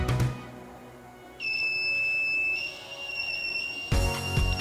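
Electronic buzzer in a simple circuit with a power source and switch, giving one steady shrill electronic tone of about a second once the switch closes, then cutting off, followed by a thump of handling.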